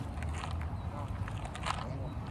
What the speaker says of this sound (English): All the geese.